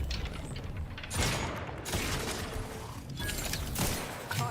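Rapid bursts of automatic gunfire from a fast-firing, quick-reloading gun in the video game Outer Worlds 2, loud and dense, with brief pauses between volleys.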